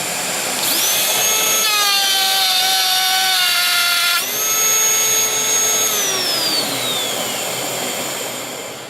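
A trimmer router cutting a circle with dust extraction running, loud and close: a high whining motor that bogs and shifts pitch as the bit cuts, then rises again and slowly winds down, over a steady extractor roar.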